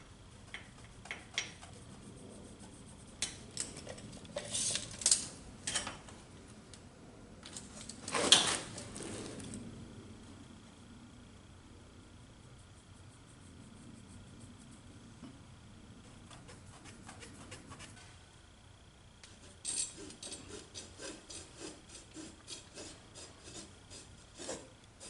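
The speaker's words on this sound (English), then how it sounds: "I'm going to mark it and notch it out with a hacksaw" A hacksaw notches a rubber garage door threshold where it meets the door track, giving bursts of close, rasping back-and-forth strokes with pauses, louder in the middle and again near the end.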